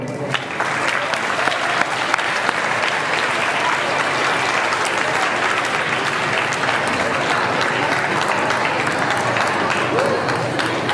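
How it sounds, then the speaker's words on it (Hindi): A school audience at an Independence Day function claps loudly and steadily, a dense, continuous round of applause filling the hall for several seconds. "आप लोग एक बार अपने लिए तालियां बजाइए।"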